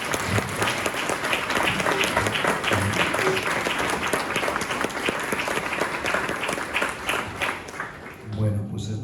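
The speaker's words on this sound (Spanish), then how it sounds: "Quisiera, por favor, que me ayudaran a darle un gran aplauso" An indoor lecture audience applauds steadily for several seconds, dense clapping that fades out near the end as a voice resumes.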